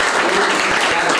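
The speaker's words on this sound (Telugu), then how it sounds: "వాళ్ళ కోసం గట్టిగా క్లాప్స్ కొట్టండి" A crowd of students at a junior college event claps loudly for their parents, a dense, rapid patter of many hands filling the short moment.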